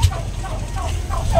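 Turkeys squabble in a pen, with a thump at the start followed by several short, gobble-like calls rising and falling close by.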